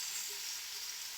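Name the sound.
potato and snake gourd sizzling as they fry in a pan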